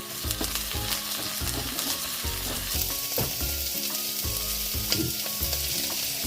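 Chopped onion and garlic frying in a pan for a bopis dish, a steady close sizzle with rhythmic scraping and stirring clatter of a utensil against the pan, no voices.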